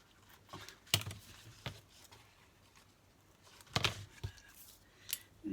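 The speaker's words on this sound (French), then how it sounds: "Ici, je vais couper." Scissors cut paper for a handmade card in a few short, crisp snips separated by pauses, close and quiet, with light handling rustles in between.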